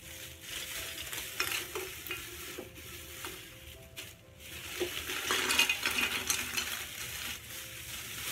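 Small Christmas ornaments poured back into a container, giving a steady clattering, rattling cascade of light pieces knocking together. The rattle swells near the middle and continues close by throughout, with no talking.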